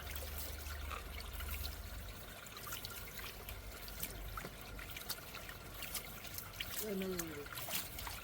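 Water and gold panning material trickle and pour into a finishing pan, a steady low splashing and dribbling with a few brief clinks near the end.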